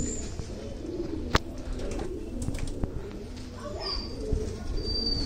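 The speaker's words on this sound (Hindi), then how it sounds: "नीले छल्ले वाला कबूतर है भाई" Soft, low coos from a blue-ringed pigeon repeat close by, with a few brief clicks and faint chirps over a light background rustle.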